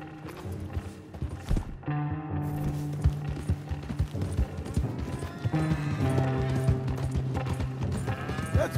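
Horse hooves clip-clop in Red Dead Redemption 2, a quick steady run of close, sharp hoofbeats lasting throughout, with tonal game music and animal calls layered over them.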